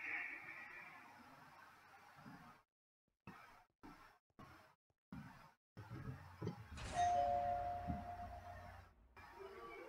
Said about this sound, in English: Where's the doorbell come from?